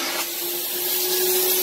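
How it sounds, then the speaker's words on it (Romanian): Karcher Puzzi 10/1 injection-extraction vacuum cleaning car seats, a steady loud whooshing suction roar with a constant motor whine, running close and uninterrupted. "cu ajutorul acestui aspirator cu injecție extracție profesional"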